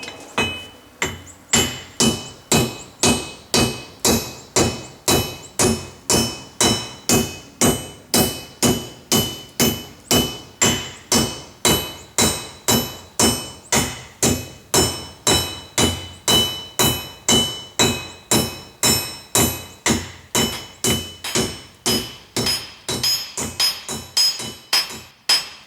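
Ball peen hammer striking steel while forging an egg cooker, a loud steady series of evenly spaced metallic blows, close up and continuing without pause.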